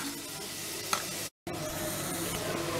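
Grated carrot being stirred in a hot pan for carrot halwa, a soft steady sizzle with scraping spoon strokes and one sharp clink, briefly cut out by a moment of silence before the sizzling resumes.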